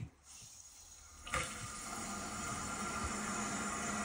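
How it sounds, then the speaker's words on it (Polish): Water runs into a toilet cistern in a small wooden house, starting after a short quiet moment and then filling with a steady, close, hissing rush that carries on to the end. "Tak eksperymentalnie puścimy wodę do spłuczki"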